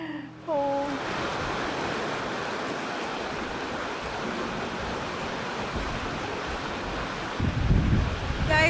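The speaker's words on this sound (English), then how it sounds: "the river is wild today" A wild, rushing river in Lapland roaring steadily as broadband water noise close by, with some wind buffeting the microphone near the end.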